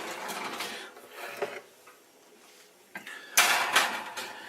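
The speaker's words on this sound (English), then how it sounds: "So we'll go ahead and put these in the oven" Clattering metal pan handling and an oven door clunk mark a tray of rosemary potatoes in olive oil going into the oven, a few close knocks and rattles with quiet gaps.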